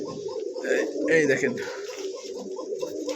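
A pair of orange chila pigeons with feathered feet coo softly at a pigeon wholesale warehouse, the low cooing running steadily beneath someone talking close by.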